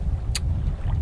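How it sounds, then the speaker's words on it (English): A sailboat moving gently at about 4 knots in roughly 10 knots of wind, near an island. Steady low water and wind rumble runs throughout, with one brief splash or hiss partway through; no voices. "We're just sailing gently away from the island, Ranchera, and heading for Honda."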